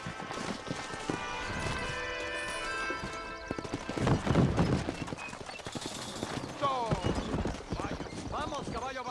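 Horse hooves clopping and a whinny in Red Dead Redemption gameplay, set against music and game sounds, with bursts of louder activity midway and short snorts near the end.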